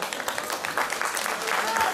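Spectators at a kickboxing event clap for the fighters, a brief burst of crowd applause mixed with shouts and cheering voices in a noisy hall.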